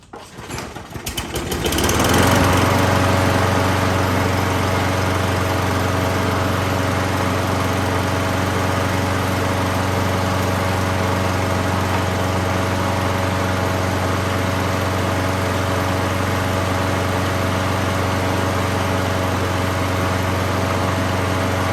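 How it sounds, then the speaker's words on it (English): A Craftsman 6.5 hp 21-inch mulcher lawn mower, salvaged from a scrap pile, sputters to life and then settles into a loud, steady, continuous engine drone with no talking. "Normally you don't get mowers out of scrap piles that start right up"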